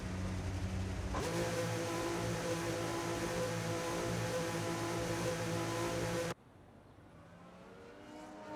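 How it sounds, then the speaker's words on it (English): Formula 1 race cars leaving the pit lane at Abu Dhabi in the F1 25 racing game. A loud, steady engine drone starts abruptly and holds for several seconds, then cuts off to a quiet background hum. "So we have the first couple of drivers coming out of the pits now."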